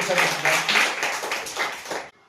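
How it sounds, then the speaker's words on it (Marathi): Schoolchildren in a classroom clap together in a brisk series of loud, roughly even claps for about two seconds before they stop abruptly, with voices mixed in. "टाळ्या वाजवत"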